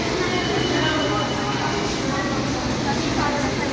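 Aboard an LRT 1 light rail train, a steady, loud rumble and rattle of the moving carriage fills the space, continuous and close, with a voice talking over it.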